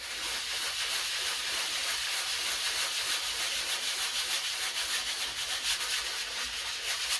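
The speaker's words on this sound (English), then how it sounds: "take your 240 grit, again, say it's just standard 240, and go over it again" Sandpaper of 240 grit rubbing over a canvas coated in black gesso, a continuous loud hissing scrape with quick back-and-forth strokes throughout, close up with no talking.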